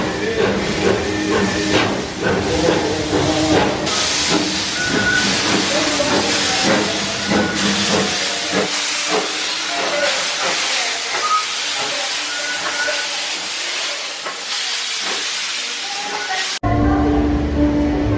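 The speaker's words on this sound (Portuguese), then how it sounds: "mais um passeio de Maria Fumaça, o trem turístico aqui da Serra Gaúcha" Maria Fumaça, a tourist steam train in Serra Gaúcha, gives off a loud, steady hiss of steam with rhythmic chuffing, and voices can be heard faintly beneath it before the sound cuts off abruptly near the end.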